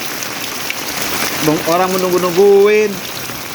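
Heavy rain pours down during a thunderstorm as a constant loud wash of noise, while a voice speaks and draws out a sung phrase over it near the middle.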